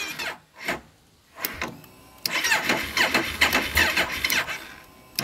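A motorcycle that had sat unused for about six months on a weak battery is cranked in several short bursts, then catches and runs with an uneven, sputtering mid-pitched engine note, close by and without speech.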